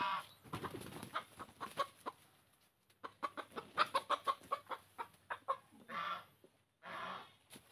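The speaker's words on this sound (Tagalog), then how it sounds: "Uy, nakawala yung isang manok nating nakatali." A tethered chicken on a farm clucks in quick irregular bursts, close and fairly quiet, with a few longer squawks near the end.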